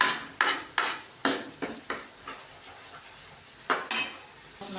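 Masala tempering for a black chickpea curry being roasted in a pan, heard as repeated sharp scrapes and knocks of a spoon stirring against the metal, with a faint sizzle underneath.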